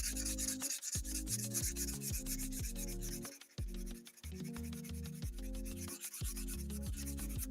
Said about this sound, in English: I'm going to just sand this down.